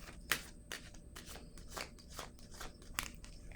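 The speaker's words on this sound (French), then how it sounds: "Attendez une minute, je vais déposer une carte." During a tarot card reading, cards are shuffled and slid with a rapid series of soft, papery flicks and slaps, quiet and close.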